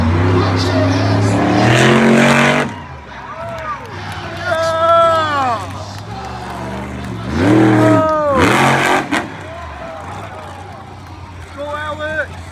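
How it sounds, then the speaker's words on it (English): A Stone Crusher monster truck's 572-cubic-inch alcohol-burning racing engine revs hard at an outdoor monster truck show, loud rising and falling throttle blasts repeating several times while an announcer talks over the noise. "572 cubic inches. Road alcohol burning racing engine."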